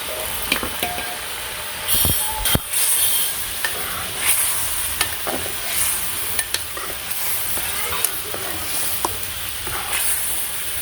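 Cumin seeds, onion and a little sugar sizzle steadily in a pan in a village kitchen, with frequent clinks and scrapes of stirring over a constant frying hiss, no talk.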